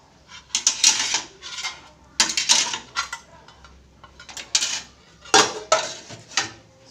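Metal instruments being decontaminated are dropped one after another into a pot of boiling water. They land with bright, close clanks and rattling clatters in several separate bursts, with quiet gaps between them.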